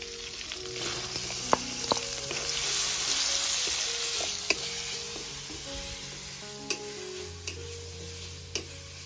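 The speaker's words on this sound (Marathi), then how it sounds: "यामध्ये लगेच बारीक चिरलेला कांदा ऍड करणार आहे" Continuous bright sizzle of finely chopped onion frying in a pan after a spice tempering, with sharp ticks and light clinks from stirring scattered throughout.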